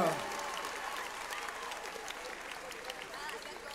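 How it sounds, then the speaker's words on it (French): An audience at a Japan Expo 2023 cosplay show applauds a Rocket Raccoon cosplayer, steady crowd clapping and cheering that fills the hall and holds at an even level throughout. "On l'applaudit bien fort, Rocket Raccoon."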